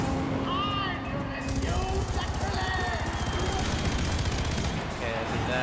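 Rapid automatic gunfire in the first-person shooter Far Cry 4, a fast continuous stream of shots close up for several seconds, with a voice talking over it.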